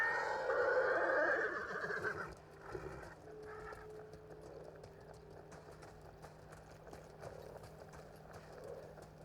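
A horse in Ghost of Tsushima whinnies loudly and near in the opening two seconds, then hooves clip-clop softly at a steady walking pace over low background ambience, with no talk.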